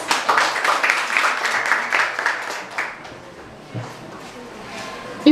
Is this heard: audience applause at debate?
yes